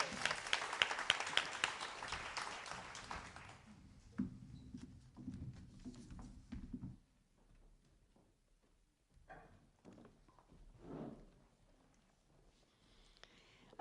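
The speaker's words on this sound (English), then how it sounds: "Let's give him another round of applause." A church congregation at a Sunday service applauds a performer with dense, loud clapping that lasts a few seconds, then thins into scattered claps and fades into quieter room sounds with brief voices.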